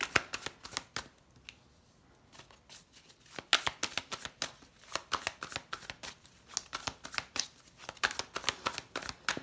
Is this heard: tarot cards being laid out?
yes